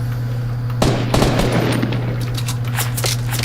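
A minigun fires in a video game in sustained rapid bursts, a dense rattling stream of shots over a constant low hum, loud and close with no voices.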